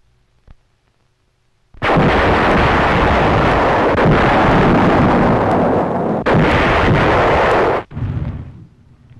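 An M40 155mm self-propelled gun fires, a heavy blast rolling on as a long roaring rumble with a brief break, then fading into lighter wind-buffeted noise.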